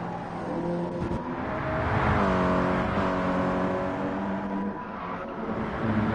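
A race car pulls out of the pit lane in Gran Turismo on Trial Mountain Circuit, engine droning and rising in pitch as it accelerates, fairly steady and moderately loud throughout.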